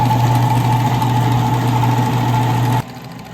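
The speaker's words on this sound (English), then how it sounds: "If your tumbler is making a lot of noise" A rock tumbler hums and rumbles steadily with a low drone and faint rattling, then drops noticeably quieter near the end.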